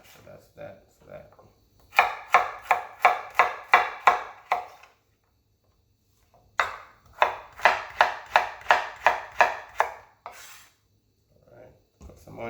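A knife chopping food while preparing Jamaican brown stew fish: two quick runs of about eight even, crisp strokes each, separated by a quiet gap, with faint murmuring voice at the edges.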